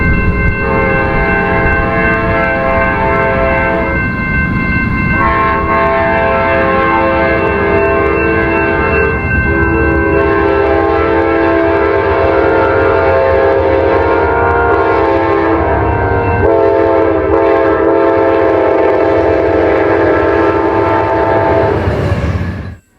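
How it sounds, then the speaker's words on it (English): An Amtrak P40 locomotive numbered 816 sounds its horn in long, loud, sustained chord blasts with brief breaks between them, over the rumble of the passing train. "until hearing this clip of 816's horn"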